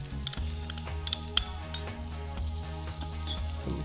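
Yellow pepper, red onion and mushrooms sauteing in a pan, a soft continuous sizzle with a few light clinks and stirring taps on top and a low steady hum underneath.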